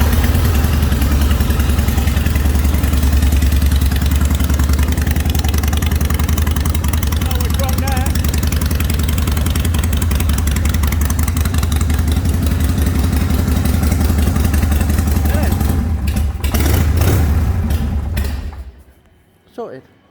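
A motorcycle engine, running again after a new battery was fitted, idles loudly and steadily up close with a rough, throbbing clatter for most of the clip, then cuts out near the end.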